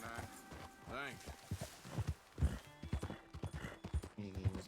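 Hooves clip-clop in Red Dead Redemption 2, a short run of hoofbeats mixed under game dialogue and background music.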